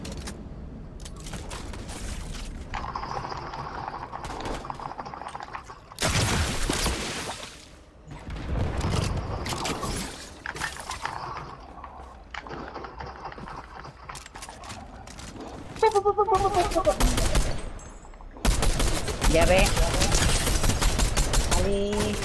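Bursts of rapid gunfire from Fortnite crackle repeatedly, with a person talking intermittently between and over the shots.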